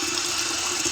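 Water gushes steadily from a tap in a home kitchen or washing area, a dense continuous hiss at close range with no pauses.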